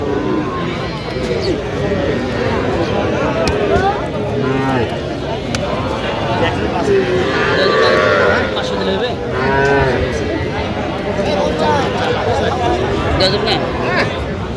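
Cattle moo repeatedly at a busy livestock market in Madaripur selling young bulls and heifers, long low calls from several animals overlapping a dense babble of crowd talk, loud and near.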